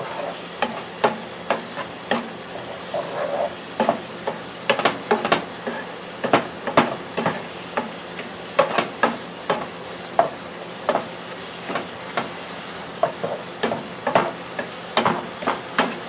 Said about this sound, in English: a half a cup of beef broth. And I'm going to add that in. Mix it around.